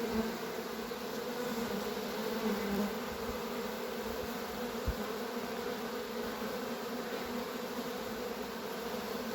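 Steady, dense buzzing of a bee swarm being settled into a hive, continuous and fairly close, with no voices over it.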